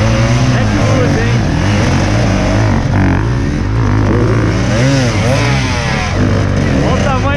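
Enduro motorcycle engines roar loud and steady throughout a 2018 Enduro dos Ipês race, their pitch rising and falling in revving sweeps.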